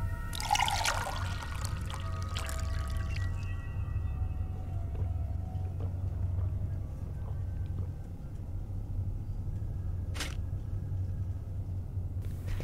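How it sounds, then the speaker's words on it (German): A character drinks water in the video game Fahrenheit: Indigo Prophecy Remastered: a brief splashy pour and trickle at the start, then a low steady rumble of ambience and a faint later click. "Ein bisschen Wasser trinken."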